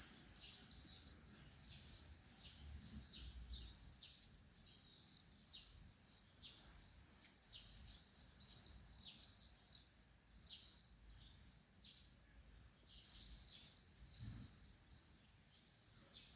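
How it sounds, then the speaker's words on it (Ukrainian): Small birds chirping outdoors with pigeons around: a continuous, thin twittering of many quick calls at moderate distance, fairly faint over a soft outdoor background, with no talk. "птички цвірінькають, голуби тут ходять"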